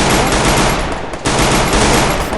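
Rapid Glock 18 pistol fire in the Free Fire mobile game, a dense, loud, continuous burst of shots with one brief dip in the middle.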